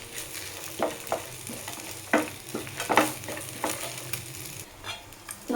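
Masala for an eggplant and groundnut curry frying in a pan, a low sizzle broken by repeated scraping, stirring knocks of a spoon against the metal, close by.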